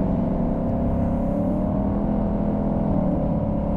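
A 2024 Ford Mustang GT convertible V8 droning through its exhaust, a steady low growl with a slight rise in revs, heard from inside the car.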